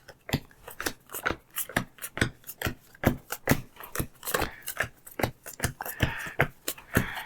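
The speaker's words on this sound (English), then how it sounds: "Just going to do a quick shuffle." A deck of game cards being shuffled, a fast run of crisp riffling clicks and flutters repeating steadily, close and fairly quiet, with no voices.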